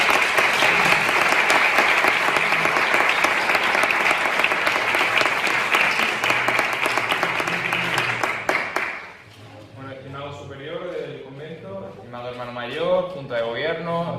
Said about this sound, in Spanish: Miguel Ángel Sastre Millán, que yo pido un aplauso.